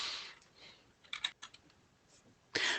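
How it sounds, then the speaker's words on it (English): Notes being typed on a computer keyboard during an online meeting, scattered soft key clicks and short bursts of tapping, close and quiet. "Sorry, I was typing notes."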